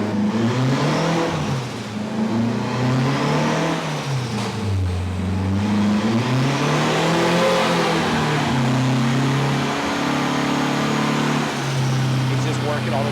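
A turbocharged 8th-generation Honda Civic engine revs on a dyno, its loud, continuous drone rising and falling in pitch across several sweeps.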